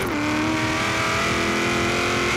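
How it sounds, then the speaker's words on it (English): GMC Vandura custom van fitted with an SS engine in Forza Horizon 3, its engine note droning loud and steady with a sustained rev and slight rise in pitch, heard alone without talk. "this is definitely the engine from the freaking SS. Oh, sounds so nice."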